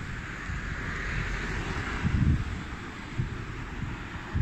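Strong outdoor wind buffeting the microphone on a cloudy day, a continuous loud low rumble with gusty swells and no other sound.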